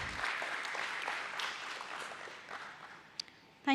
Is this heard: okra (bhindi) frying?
no